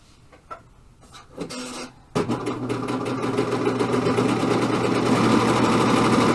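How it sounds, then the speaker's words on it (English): A serger sewing machine finishes the edges of jacket fabric, starting after a few light handling taps and then running as a steady, fairly loud mechanical whir that holds to the end. "I think I'm going to go ahead and serge the front and the sides."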